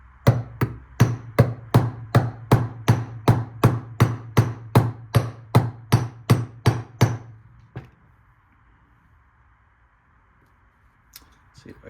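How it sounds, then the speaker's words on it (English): The peen side of a hammer taps metal on a vintage Mercury outboard bearing carrier, about twenty evenly spaced, close, sharp strikes in a steady rhythm, then near silence with a faint hum. "I will just have to tap it with the peen side of my hammer"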